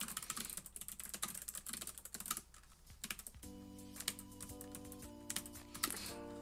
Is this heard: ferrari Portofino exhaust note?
no